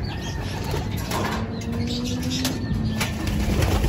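Black pigeon hen landing at the loft, soft wing flaps and light fluttering over a steady background hum, the sound faint and close, without any voices.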